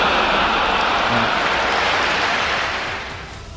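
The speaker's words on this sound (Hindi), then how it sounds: "लोगों ने खूब तालियां बजाई" An audience claps after a speech, dense and loud applause that fills the room and fades gradually toward the end.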